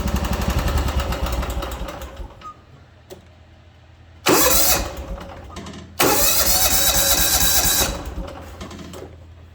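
John Deere 240 lawn tractor engine after a carburetor cleaning, running loud and rough with surging bursts as the throttle is blipped, a close steady chug between revs.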